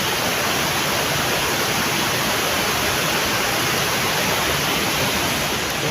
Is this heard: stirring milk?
no